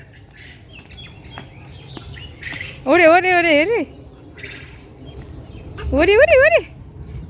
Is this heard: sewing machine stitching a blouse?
no